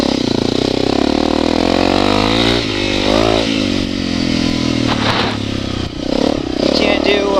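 A Honda CRF250L motorcycle engine runs loud and close, with a continuous drone and slight shifts in revs throughout, while a voice talks over it.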